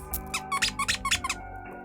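A small squeaky toy hanging on a kandi necklace is squeezed about nine times in a quick, uneven run, each squeak sharp and close, then it stops.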